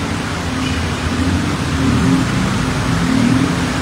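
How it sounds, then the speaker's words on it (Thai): Heavy rain pours steadily onto a flooded street beneath the BTS Phaya Thai station in Bangkok, a dense continuous hiss mixed with low traffic rumble, unbroken and fairly loud throughout. "ฝนยังตกอยู่นะครับคุณผู้ชม"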